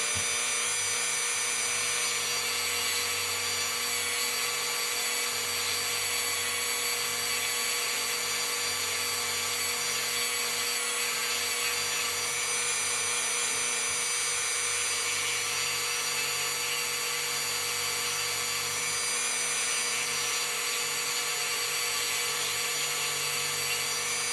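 A power tool's steady, high-pitched motor whine runs continuously at a constant speed, lightly sanding a Creative-Tonie figure.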